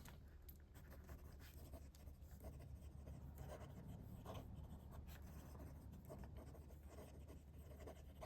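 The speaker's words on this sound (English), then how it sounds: "I'll just do some quick writing." A fountain pen with a medium Schmidt nib writes on paper, giving soft, close, continuous scratchy strokes with brief pauses between words, quiet and alone.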